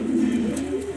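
A lively pigeon kept in a loft coos in a low, steady, throaty drone that runs through the whole second, close by and alone with no talking.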